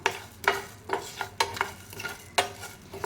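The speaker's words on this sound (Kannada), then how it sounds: "ಈಗ ಧನಿಯಾ ಹಾಕ್ತಿದ್ದೀನಿ. ಫಸ್ಟು ಧನಿಯಾನ ಸಣ್ಣ ಉರಿಲೇ ಹುರ್ಕೊಳ್ಬೇಕು." Coriander seeds dry-roasting in a pan with a drop of oil over a low flame, stirred in sharp rhythmic scrapes and rattles about every half second, close and fairly quiet, with a faint sizzle underneath.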